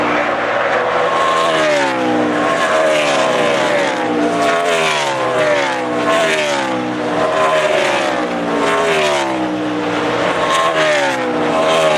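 Race cars at the Cheez-It 355 at the Glen road-course race, a continuous loud engine drone that climbs and falls in pitch as the cars accelerate and shift, steady for the whole stretch with no talking.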